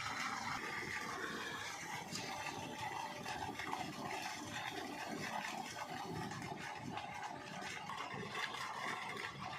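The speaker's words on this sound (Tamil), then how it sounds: "பாருங்கள், ஆன் பண்ணிட்டேங்க. அங்கே தண்ணி ஊற்றுக்கங்க பாருங்கள்." Water gushing steadily from a pump driven by a 4 hp DC motor on a solar-panel farm setup, a continuous rushing flow with a faint mechanical hum underneath and no speech.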